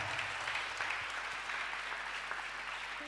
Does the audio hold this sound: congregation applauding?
yes